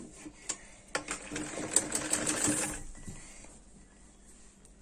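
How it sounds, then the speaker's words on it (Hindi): A sewing machine stitches cloth with a belt laid inside the fabric. It makes a close, rapid mechanical chatter for about two seconds, then stops, leaving faint background noise. "इस जगह से बिल्कुल यहाँ पर बराबर रखते हुए इसे सिलना है।"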